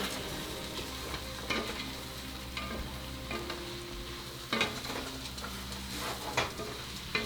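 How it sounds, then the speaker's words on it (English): Onions cooking in a roux, with a soft steady sizzle and frying hiss while a spoon scrapes and taps the pot in irregular strokes as the mixture is stirred, close but fairly quiet. "So if you just let it cook off for a minute or so, keep stirring it."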